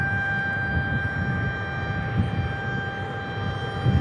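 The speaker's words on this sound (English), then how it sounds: "So we got Southwest waiting to take off, some F-16s waiting to take off." Jet aircraft, a Southwest airliner and F-16 fighters, wait to take off at Tucson International Airport; a steady low engine rumble and whine holds throughout, moderately distant and even in level, with no speech.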